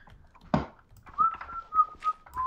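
A person whistles a short, wavering tune of a few sustained notes close by, after a sharp knock, with faint low rumble underneath and no talking.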